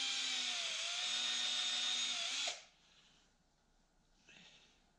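A power drill spins its bit into a homemade wooden fishing lure. The motor whines loud and steady for about two and a half seconds, then cuts off, and the bit winds down into quiet.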